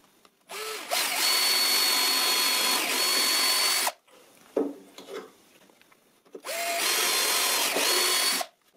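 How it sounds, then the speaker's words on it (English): A power drill bores a guide hole in wood during a workbench leg vise build, two sustained high whining runs of several seconds each with a brief quieter pause and clunk between them. "Now I drill here a guide hole."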